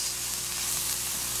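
Trinidadian saltfish buljol cooking in a pan on the stove gives a brief, even, soft sizzle that continues without a break. There is no voice.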